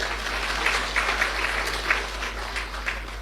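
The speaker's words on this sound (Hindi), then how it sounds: "ताली बजाओ अपने लिए।" An audience claps for themselves at a spiritual talk, a moderate steady patter of many hands with a few louder bursts, continuous for about three seconds with no talking.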